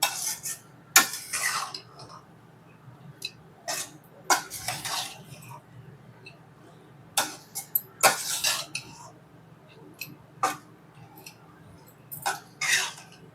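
A spoon scrapes and clinks against a bowl as fried gram-flour boondi is stirred into sugar syrup for laddu, giving irregular sharp metallic taps and soft wet squishes over a quiet background.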